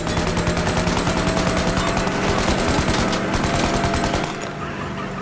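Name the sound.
golden Tommy gun firing in Mafia Definitive Edition video game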